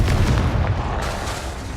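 Confringo, an explosive fire spell in the Hogwarts Legacy video game, bursts as a loud, dense, booming blast that rumbles on steadily for a couple of seconds with no voices over it.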